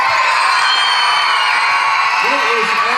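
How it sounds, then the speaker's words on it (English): Children at a school morning assembly at an elementary school cheering and whooping together, a loud steady crowd roar with higher yells rising near the end. "Give them another big cheer, guys."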